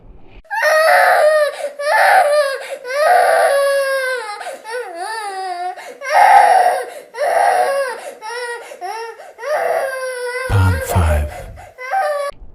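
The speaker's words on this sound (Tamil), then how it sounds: "அருகில் ஒரு குழந்தை பிறந்த குழந்தை அழும் சத்தம் கேட்டது" A newborn baby cries loudly and steadily in repeated wailing bursts with short gasping pauses, close and alone, ending with a brief low thump.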